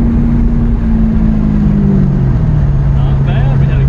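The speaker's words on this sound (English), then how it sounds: "it revved all the way up to 4K that time." A Ford Thunderbird's engine revs up loudly to 4,000 rpm and holds a high, droning pitch, its rumbling tone shifting slightly as it settles, close and continuous.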